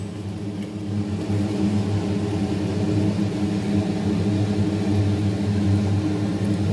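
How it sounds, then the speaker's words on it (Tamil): A kitchen mixer grinder runs steadily, grinding roasted gram into a fine paste for a drumstick kuzhambu, a continuous close motor whir and hum with an even level throughout. "போட்டு நல்லா நைஸாக அரைச்சி எடுத்துக்கோங்க"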